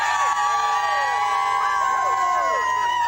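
A large crowd cheers and shouts along the Long Walk in Windsor, a steady, dense wash of voices with whistles and siren-like calls rising over it throughout.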